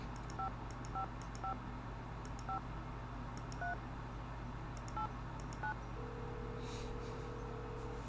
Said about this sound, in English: This is not how rotary phones work.